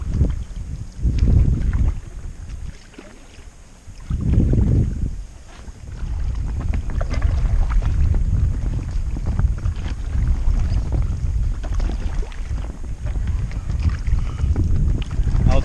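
Wind gusting over the water around an inflatable kayak being paddled, steady rumbling buffeting of the microphone with a few stronger swells, loud and close.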